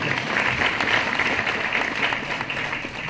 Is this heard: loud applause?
yes